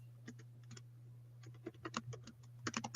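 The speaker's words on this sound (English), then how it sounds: "I'm typing something here" Someone types on a computer keyboard, a very quiet close run of light uneven clicks that comes in bursts over a steady low hum.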